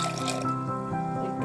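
Water is poured over peeled raw bananas in a pressure cooker, a short close dripping and splashing pour under a steady kitchen hum.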